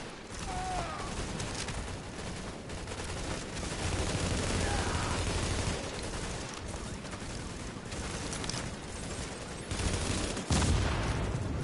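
Dense gunfire from The Division video game, sustained volleys and bursts rattling almost without pause, loud and close, with game alert voices faintly mixed in.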